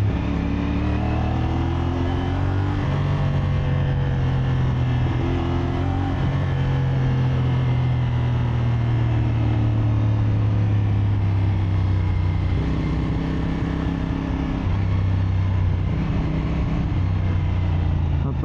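A CFMOTO SR450 motorcycle engine hums steadily while riding downhill on a gravelly road, its pitch rising and falling with gear and throttle changes under constant wind rush, close and loud throughout.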